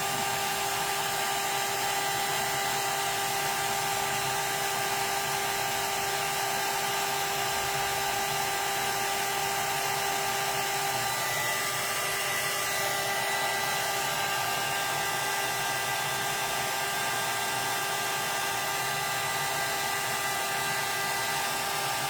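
A hair dryer blows steadily for a long stretch while drying a glued Halloween ghost craft, a constant near whirring hum with a slight shift in tone partway through, no talking.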